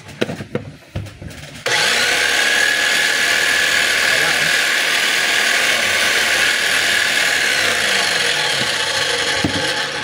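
A DeWalt D25899 10 kg jackhammer runs under test, starting after a few clattering knocks into a loud, continuous rapid hammering that holds steady to the end.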